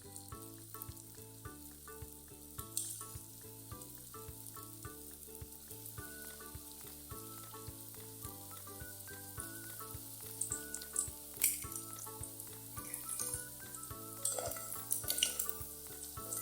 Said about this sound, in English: Continue frying the rest following the same procedure.